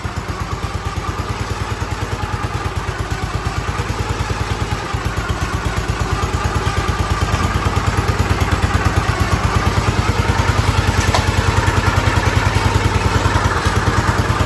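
A Ford tractor engine, a barn find, idles steadily with a fast, even chugging pulse, loud and close, running alone without voices for the whole stretch.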